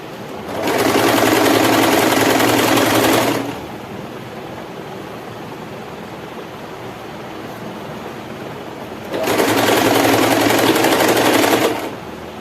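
A sewing machine runs a lock stitch along the border of a sari in two loud, steady bursts of about three seconds each, separated by a quieter pause with a low hum.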